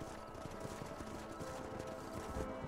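Hooves clip-clop rhythmically across dry ground as a horse runs in the Red Dead Redemption video game, a quiet, steady patter of hoofbeats with no talking.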